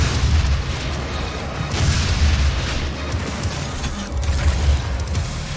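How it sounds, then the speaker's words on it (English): A grenade goes off in the video game Doom, a loud low booming blast rolling with rumbling game noise and mechanical clatter, sustained through the moment with no talk. "Threw that grenade too far."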